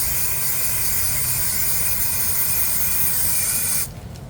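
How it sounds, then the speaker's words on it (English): Spray foam insulation hisses steadily and loudly from a nozzle inside a converted school bus, a broad continuous rush that cuts off abruptly near the end, leaving faint room noise. "And I'm going to go ahead and spray the outside first."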